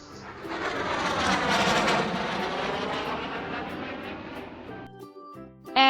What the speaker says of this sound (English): aircraft,